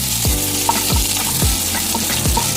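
Butter and onions sizzle loudly in a hot pan, a dense, continuous frying hiss with a few rhythmic stirring scrapes, close up and with no voices.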